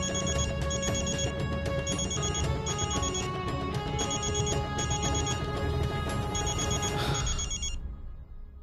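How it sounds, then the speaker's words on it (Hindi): A telephone rings loudly in repeated bursts at a steady rhythm over background music, then stops near the end. "फोन बज रहा है, उठाना नहीं है?"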